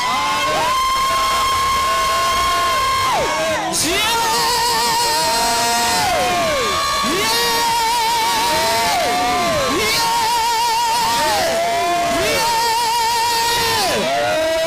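A church congregation at an Easter service cheers and ululates loudly in repeated rising and falling trilling bursts, many voices layered together, close and continuous.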